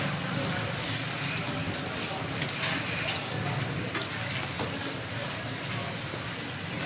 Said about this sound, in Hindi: हम इसमें हाफ़ kg चिकन शामिल करेंगे और चिकन को अच्छी तरह से भून लेंगे